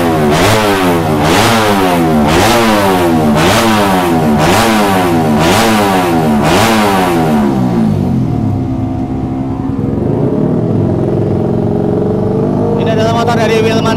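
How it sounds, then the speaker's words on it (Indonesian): A racing kart engine warms up in the paddock at Sentul Karting during a Oneprix race day, revving loudly in rapid repeated bursts before settling to a rough idle close by. "motor dari Wilman Hammer, itu ada Wilman Hammer sedang dipanasin"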